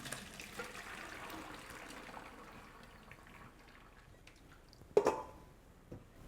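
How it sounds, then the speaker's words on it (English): Wine is poured out of a cooking pot into a kitchen sink, a soft trickling splash that builds, then a sharp louder slosh near the end before it tails off. "I'm going to take them over to the sink and pour out the wine,"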